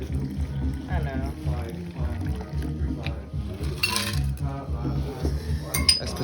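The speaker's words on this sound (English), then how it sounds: "That's precision pouring" Sake is poured into glasses at an art exhibition, with light liquid trickles and small glassy clinks mixed under people chatting nearby.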